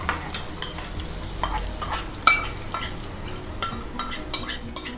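Hot tempering of green chillies and curry leaves poured into curd, giving a steady close sizzle with clinks of a spoon and stirring scrapes throughout.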